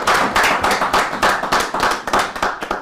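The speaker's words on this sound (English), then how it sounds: "please give yourself a round of applause" A smaller audience claps close by, with distinct individual hand claps in an uneven, pulsing rhythm rather than a smooth roar, holding steady for a few seconds.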